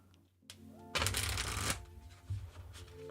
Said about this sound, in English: I offer no foolery in our deck shuffle.